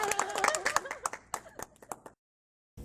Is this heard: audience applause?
yes